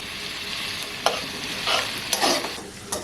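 Chopped tomato goes into a pan of frying onions, ginger and garlic for a fish-head dal, a steady loud sizzle broken by bursts of spattering and the scrape of stirring.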